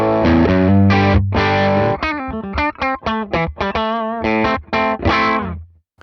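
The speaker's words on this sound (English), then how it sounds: "If I bypass the first mic, the 57, the ribbon mic sounds like this." Distorted electric guitar through a Morgan amp modelled with a ribbon 121 mic impulse response, playing a dense riff of held chords and choppy muted notes, warm and heavy in the low end, loud and alone.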